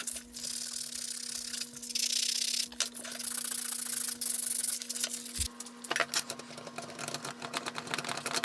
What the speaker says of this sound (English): With it all to shape, now just sand it up and put a little bit of a finish on it.